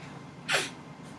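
A single sharp sneeze bursts out midway, loud and close, with a quiet room hum before and after.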